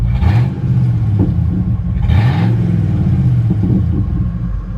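The engine of a Ford F150 pickup, a stolen non-runner being revived, gives two short rev blips early on, then settles into a steady, close, rumbling idle.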